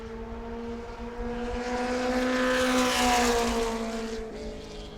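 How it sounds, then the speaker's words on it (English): Mod Mini race car number 93 on a qualifying lap at New Smyrna, a loud buzzing engine note rising and then falling in pitch as it passes near, with steady track ambience beneath. "Firestein making his way down to turn 3, trying to dig a little bit deeper, gets a little more speed out of number 93."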